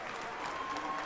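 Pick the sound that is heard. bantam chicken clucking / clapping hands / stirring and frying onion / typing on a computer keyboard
clapping hands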